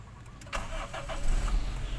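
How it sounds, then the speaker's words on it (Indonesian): A Toyota Great Corolla's engine is cranked with the starter and catches, settling into a steady mid-pitched idle with a low rumble. It is close and fairly loud, with no talking over it. "kita nyalakan mesin"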